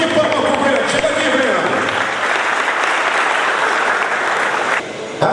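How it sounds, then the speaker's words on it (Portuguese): Crowd applause at the opening of a horse riding circuit event in Brazil, sustained loud clapping from many people, with a voice over a loudspeaker heard through it. "Salve de palmas para o Breno"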